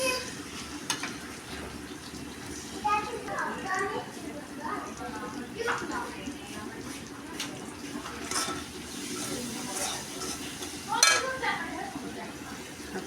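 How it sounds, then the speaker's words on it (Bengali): Fried egg and meat being mixed with spices in a pan for pasta, with intermittent scraping and clinks of a utensil against the pan over a faint sizzle while a voice talks quietly nearby. "ভেজে রাখা ডিম মাংস আমি একসাথে মশলাগুলোর সঙ্গে সুন্দর করে মিক্স করবো"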